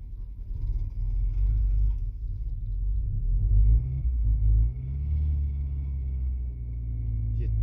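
A gas-powered car warms up at idle in freezing winter cold, about minus seven degrees, a close, steady low rumble with a slight shift in pitch partway through and a faint voice under it.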